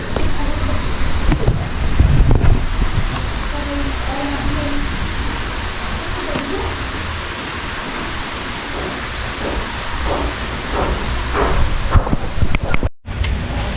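Rain falls outdoors at a building site, a steady hiss of drops on surfaces that holds throughout, with a few louder bursts and brief knocks mixed in.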